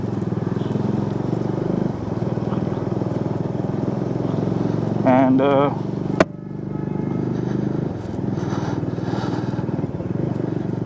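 A Bajaj Dominar 400 motorcycle rides between Amritsar and Ludhiana with a steady, loud engine drone throughout, under someone talking over it.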